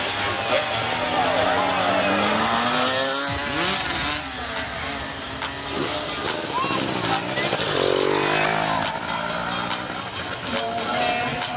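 Motocross bikes at a freestyle cross event, engines roaring and revving loudly and continuously, pitch sweeping up and down as several machines pass and accelerate nearby, with crowd and voices underneath.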